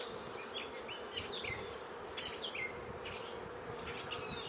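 Swarm of honeybees buzzing around stacked hive brood boxes, a steady low hum with a few close passing bees whining past, birds chirping faintly in the background and no talk.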